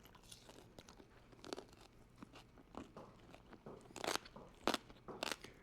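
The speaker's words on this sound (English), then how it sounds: "I hear a lot of crunching. That's good news." Crisp, irregular crunches from biting into air-fried crispy pork belly crackling, several sharp crackly bites growing louder toward the end, heard up close without speech.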